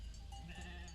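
A ram sheep bleats faintly at a distance, the wavering call lying beneath a steady low rumble of background noise, and no one speaks.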